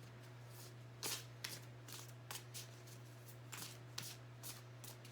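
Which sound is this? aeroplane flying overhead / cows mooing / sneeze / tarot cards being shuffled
tarot cards being shuffled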